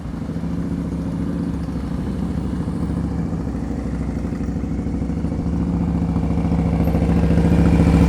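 Motorcycle engine at low speed during advanced slow-speed riding practice in Massachusetts: a steady, close mid-pitched idle-like rumble with a faint rattle, gradually growing slightly louder, with no voices.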